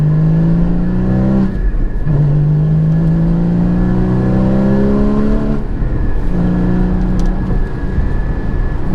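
A Porsche Cayman 981 GT4's 3.8-litre engine revs hard and continuously, rising in pitch through repeated gear pulls, loud and close with no talking.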